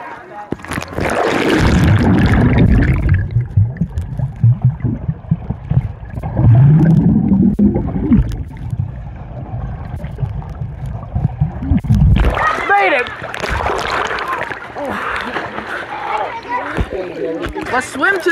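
People swimming and jumping in water, with splashes and water movement under frequent close shouting and talk, a loud burst of splashing near the start and again toward the end.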